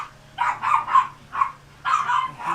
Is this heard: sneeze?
no